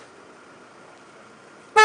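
A car horn blares suddenly near the end of a quiet stretch of low night-time street hum, a single loud, close honk lasting a moment.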